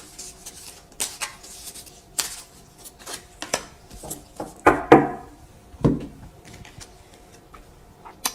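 Tarot cards being shuffled and drawn give a run of short, crisp taps and snaps at an irregular pace, close and quiet, with one longer riffle near the middle.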